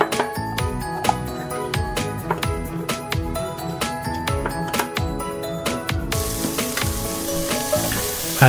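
Button mushrooms hit a hot wok with a steady crackling sizzle, under clinking utensils and music, the frying hiss building louder toward the end.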